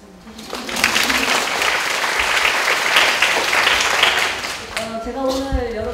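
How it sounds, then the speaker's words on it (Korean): An audience applauds warmly to welcome visiting mentees from Hoseo University at a mentoring talk, a dense sustained wash of clapping that swells quickly and fades out as a voice resumes near the end. "한번 좀 박수 좀 부탁드립니다"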